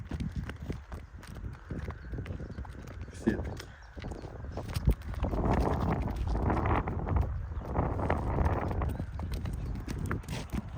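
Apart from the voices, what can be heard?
horses walking, hooves clip-clopping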